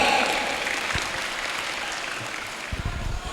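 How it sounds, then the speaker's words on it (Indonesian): A crowd of students claps for the KPRM representative at a university orientation event, the applause loud at first and then tapering into a softer, scattered patter, with a few low bumps near the end. "Tepuk tangan dulu untuk KPRM"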